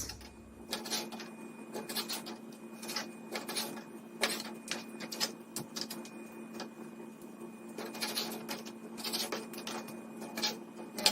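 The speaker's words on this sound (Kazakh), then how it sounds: "Енді бауырды ұшай етіп жұқалап кесіп аламыз" Knife thinly slicing liver on a board, a quick series of soft close taps and cuts in an uneven rhythm over a quiet background hum, with no talking.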